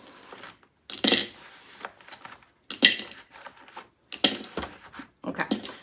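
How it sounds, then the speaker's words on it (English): Loose coins clink and jingle in several bursts, rattling as they are poured and sorted, with brief quiet pauses between handfuls. "we do have a bunch of change in here as well"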